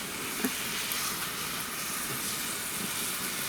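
Steady, even sizzling of zucchini frying in a pan, a continuous close hiss with faint crackles and no voices.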